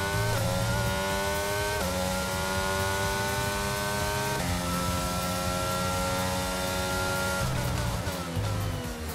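In the F1 22 video game, a race car engine screams through repeated upshifts and downshifts as the car brakes and accelerates, loud and continuous with rising and falling pitch sweeps.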